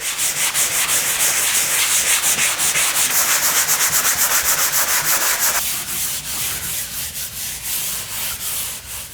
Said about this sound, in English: But I'll sand this and the other one out and prime it and paint it